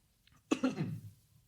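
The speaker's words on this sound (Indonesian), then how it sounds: "Lagi batuk soalnya." A single close, sharp cough bursts out and trails off quickly, with quiet around it.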